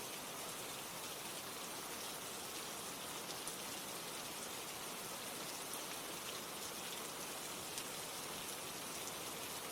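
Steady heavy rain falling on surfaces, a dense, even hiss with no pauses and no voices for the whole stretch.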